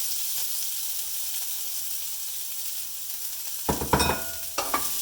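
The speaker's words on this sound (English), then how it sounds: "So our oil's getting hot here. We're going to add our Brussels sprouts." Brussels sprouts hit hot oil in a pan, a low steady hiss giving way to a sudden louder crackling sizzle with a few sharp pops near the end.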